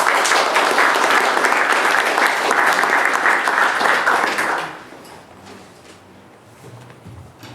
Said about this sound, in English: A round of applause, Mr. Ramsell